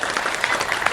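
An audience claps steadily at a live comedy show, a dense, even patter of many hands fairly close, with no pauses.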